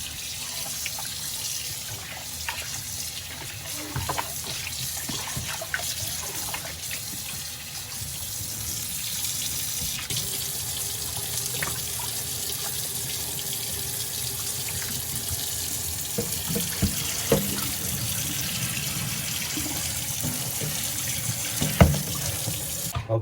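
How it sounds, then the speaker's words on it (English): Cold tap water runs steadily into a sink over raw ribs being rinsed, a continuous close splashing stream with small shifts as the meat is moved, no talking. "So this is cold water again, and I'm going to give it a nice cold water bath again."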